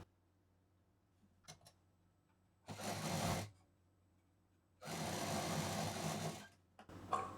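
A sewing machine stitches the printed bottom seam of a cloth bag made from four fabric pieces, with two sustained runs of whirring stitching separated by quiet pauses and a few small clicks.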